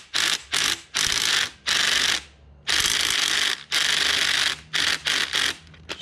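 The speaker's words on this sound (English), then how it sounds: "Just use your ratchet and a jack handle." A hand ratchet worked on a Volkswagen Jetta Mk2 VR6 engine, with jack handle leverage: bursts of loud, close, rapid clicking strokes in an irregular rhythm, with brief pauses between pulls.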